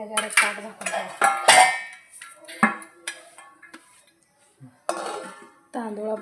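A metal plate is set as a lid over a pot of masala bhat, making a cluster of close, bright clanks and clinks at the start, then a few scattered metallic knocks with quiet gaps between them.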